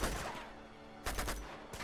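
Gunfire from the video game Uncharted 2: Among Thieves: loud, dense bursts of shots that rattle on and off, with a heavier volley near the end.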